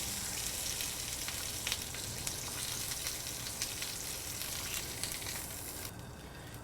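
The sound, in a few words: burger patty pressed with spatula sizzling on griddle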